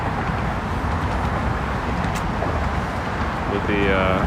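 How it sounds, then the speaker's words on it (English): Street traffic in Midtown East, New York City, heard as a continuous roar of passing cars and road noise with a brief higher whine near the end, fairly loud and close, with people talking faintly at times. "Car noise when disconnected."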